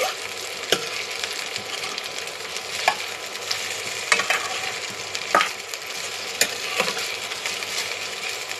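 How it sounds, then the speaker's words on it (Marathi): Okra and chillies sautéing in oil in a home kitchen pan, a steady soft sizzle with occasional sharp clicks of a spoon against the pan, fairly close and moderately quiet. "तेलामध्ये चांगली परतून घ्यायची भेंडी, म्हणजे चिकट होत नाही."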